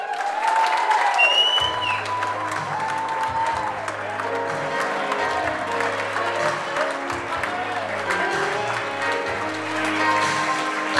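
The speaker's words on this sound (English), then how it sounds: "Have a big round of applause for the grandparents of the groom" Wedding reception guests in Boston give a long, steady round of applause for the groom's grandparents, with music playing underneath.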